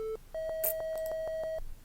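A micro:bit plays a steady electronic beep, then a rapid run of eight short identical tones in even rhythm, clear and close with nothing else around them.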